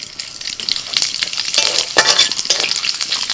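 Dried red chili, bay leaf and panch phoron crackle and sizzle in hot oil for a mixed vegetable dish, a close bright spitting fry with scattered pops and a few light metallic clinks.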